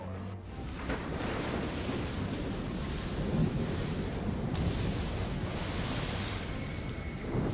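A thunderstorm at sea in Assassin's Creed III, with waves and wind roaring as one dense, steady wash of noise that swells slightly midway. No one speaks.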